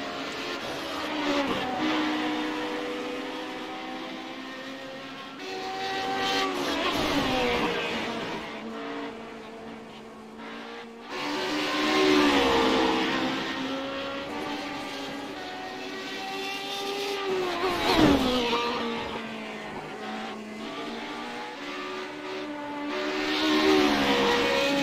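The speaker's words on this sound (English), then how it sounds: "just hear the car in front changing down to the corner" A race car in a Radical SR8 challenge at Watkins Glen changes down for a corner, its engine revs rising and dropping in repeated sweeps. It is heard from a following car, loud and continuous with no talk.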